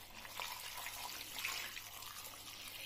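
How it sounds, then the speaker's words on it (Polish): Tap water runs steadily into a pot being filled for chicken broth, a soft continuous splashing with gentle fluctuations, fairly quiet and alone. "naczynie wypełniam wodą. Muszę jeszcze dolać."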